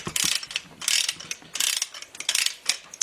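Ratcheting wrench on the crank bolts of a GM 4.3 Vortec V6 engine rebuild, rapid close-up bursts of metallic clicking in a steady back-and-forth rhythm, with no talk.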